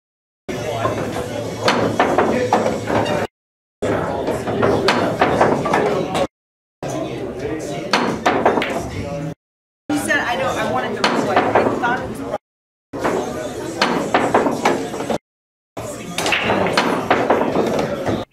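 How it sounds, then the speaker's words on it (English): Sharp clacks of billiard balls recur in separate bursts, with a person talking over the shots. "The ninth drill tests jump shot accuracy and consistency."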